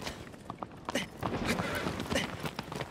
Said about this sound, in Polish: Koń mój.